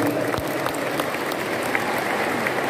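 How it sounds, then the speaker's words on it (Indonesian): Audience applause for Pak Siswanto at a Golkar party witness briefing in Blora, a steady sustained clapping from a large crowd filling the room at moderate loudness. "Tepuk tangan buat Pak Siswanto."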